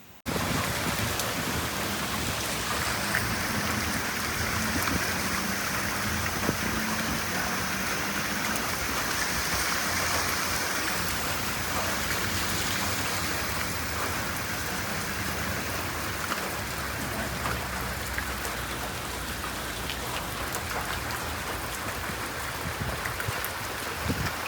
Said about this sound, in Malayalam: കൊടയാണ്, നല്ല മഴയാണ്, ഒടുക്കമലത്തെ തണുപ്പുമാണ്